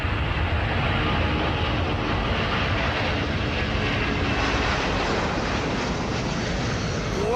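An airplane takes off with a loud, steady roar of engines that fills the whole stretch without letup, dense and broad, with no talk over it.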